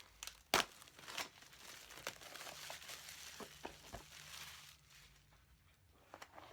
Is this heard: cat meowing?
no